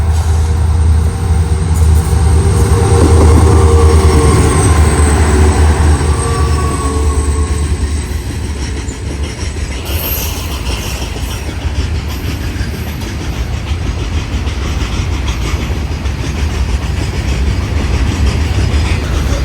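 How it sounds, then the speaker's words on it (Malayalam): Goods train hauled by twin WDG4 diesel locomotives rolling past a halt station, loud steady rumble with continuous clickety-clack of wagon wheels and occasional squeal, close and sustained throughout. "ഇതിൻ്റെ ലോക്കോ ഒരു WDG4 ട്വിൻസ് ലോക്കോ ആണേ."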